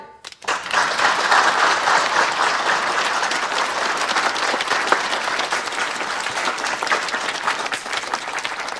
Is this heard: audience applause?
yes